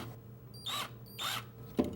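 An electric drill clamped in a jig to spin a drum sander gives two short whirring bursts about half a second apart, each spinning up and winding down, then a brief clunk, close by with no talking.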